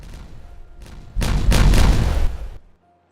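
Dynamite goes off in the video game Timberborn as a sudden loud blast, with several booming bursts overlapping for about a second and a half before cutting off. Faint thumps come first.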